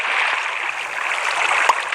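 Water poured from a bucket in Minecraft, giving a steady rushing, gurgling flow for about two seconds with one soft click near the end.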